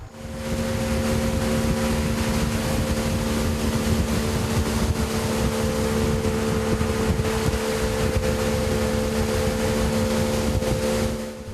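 A boat engine drones steadily with a constant hum as the boat crosses waves into strong headwinds, joined by rushing wind and water noise for the whole stretch, no voices.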